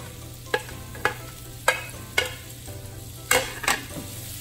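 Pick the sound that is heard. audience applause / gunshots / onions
onions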